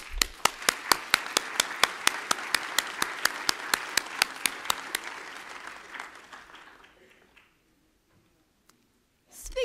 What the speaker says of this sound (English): Can we have a clap of welcome?